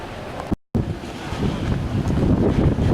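Wind buffets the microphone on the open deck of a cruise ship sailing away from St Petersburg, a loud steady roar with water rushing beneath, broken by one brief dropout near the start.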